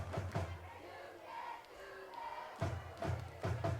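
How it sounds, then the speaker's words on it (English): Spectators at a South Side Archers high school football game shout together in protest after a penalty call, a rough, sustained roar with sharper bursts of yelling near the start and again toward the end. "Southside Archer crowd saying, you can't do that."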